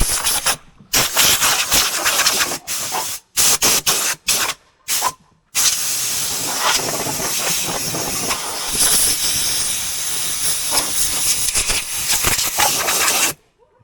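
Compressed air sprayed to clean a 5710 tractor: loud, close hissing blasts, several short bursts with gaps at first, then one long continuous spray. No voices.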